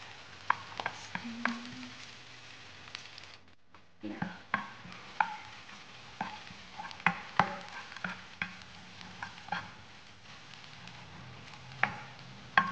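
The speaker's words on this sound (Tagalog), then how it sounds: "So, igigisa ko lang siya guys. Marami kang bawang." Plenty of garlic sautés in a pan with turmeric, a soft crackling sizzle under scattered sharp spatula taps and scrapes that come at an uneven pace, with one brief lull near the start.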